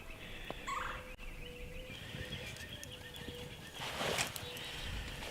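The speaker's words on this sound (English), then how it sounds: "I think it was a tom turkey chasing around a hen. He was gobbling away" A tom turkey gobbling outdoors at a cold campsite while chasing a hen, rapid rattling gobbles coming from a moderate distance, with a louder burst near the end over steady background noise.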